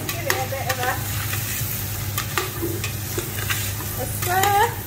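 Vegetables with chilies sizzle in a pan over medium-low heat while being stirred, a steady frying hiss broken by repeated scraping strokes of the spoon and a few squeaky clinks against the pan.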